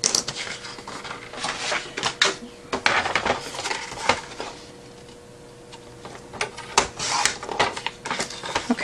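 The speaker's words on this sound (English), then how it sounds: "Okay, so right there is how I've done all my scoring marks." Paper is scored on a Martha Stewart score board with a scoring tool, producing a series of sharp, close clicks and light scraping strokes separated by a quiet pause.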